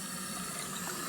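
Water running steadily from a Bristan Quest chrome-plated bathroom basin mono mixer tap, a constant close rushing stream with no talking.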